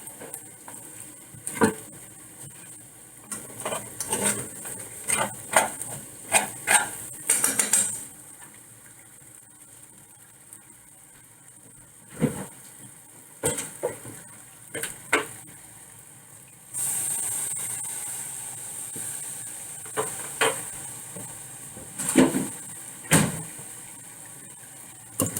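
Minced garlic sizzling in a pan over medium heat for breakfast tacos, a steady spitting hiss broken by clinks and scraping as it is stirred, loudest in a long sustained stretch late on.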